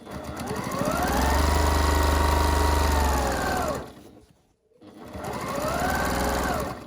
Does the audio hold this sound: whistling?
no